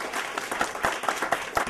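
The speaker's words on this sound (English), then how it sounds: "A thunderous applause." Applause from a storytelling audience at a live story slam, a dense, steady patter of many hands with scattered sharper claps, held at moderate level for a short stretch.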